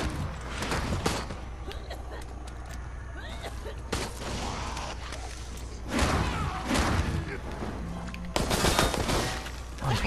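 Gunfire in the Resident Evil Resistance video game, with dense bursts and heavy impacts throughout and louder volleys near the middle and end, set against a busy, cluttered game mix.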